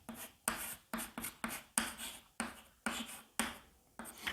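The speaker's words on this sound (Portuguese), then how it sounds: "agora eu vou escrever aqui de novo" Chalk or marker writing on a board during a physics lesson on electric generators: nine brisk scratchy strokes in quick succession, each a short rasping burst with pauses between, close and moderately loud, with no talking.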